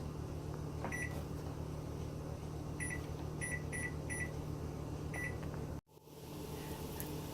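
A run of high electronic beeps from an oven panel as a 10-minute timer is set, several short tones in quick groups over a steady appliance hum, then a sudden cutoff.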